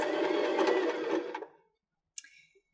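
A sewing machine stitches a bar tack in a quick whirring burst that stops abruptly, followed by a brief faint click, close and alone.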